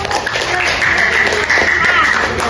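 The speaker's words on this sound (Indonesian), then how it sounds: "Beri aplaus buat kelompok 1" Applause for group 1 after their performance: a steady, dense wash of clapping that stays loud and continuous, with a few voices mixed in.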